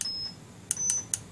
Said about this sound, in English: Why would you want to make the computer beep?